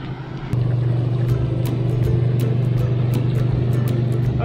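A motorboat engine passes close by a paddleboard out on open water, a steady near drone rising in loudness after a moment, with light splashing and wind noise around it.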